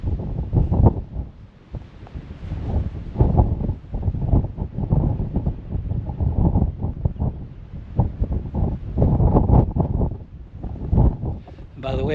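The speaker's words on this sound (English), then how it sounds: "the wind's getting quite strong" Strong wind gusting across an exposed clifftop, a steady low roar that swells and eases throughout while people talk over it.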